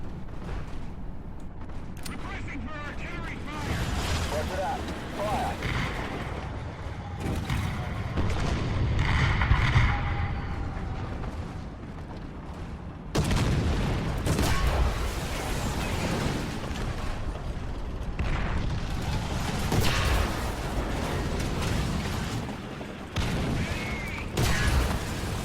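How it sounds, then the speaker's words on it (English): Artillery barrage in the tank combat game War Thunder with a Russian T-70 light tank, booming explosions and rumbling impacts layered over constant engine and battle noise, heavy and sustained. "Sounds like it's made to order for another artillery barrage."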